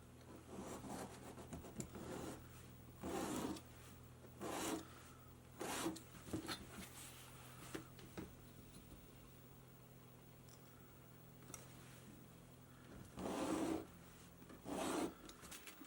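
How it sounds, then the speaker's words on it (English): A leather rougher scratches slippery leather along a ruler in repeated short, raspy strokes, separated by brief pauses, close and fairly quiet over a faint background hum. "I'm going to use this in my rougher to scratch this up"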